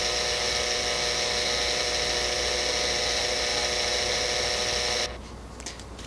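A dental lathe buffs a fixed partial denture prosthesis with Tripoli and Rouge compounds, giving a loud, steady high-pitched motor whine that stops abruptly near the end, leaving a few faint clicks.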